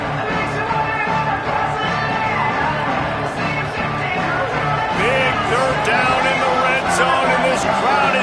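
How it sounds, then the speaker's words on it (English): Stadium crowd in an American football video game, a steady dense roar with scattered shouts and whoops, loud and continuous, with game commentary talking over it. "This crowd is getting behind this defense."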